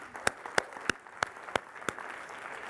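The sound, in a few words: audience applause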